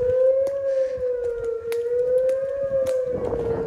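A Thunderbolt civil defense siren wails steadily in the distance, a sustained tone that wavers slightly in pitch, with faint background clatter and no talking.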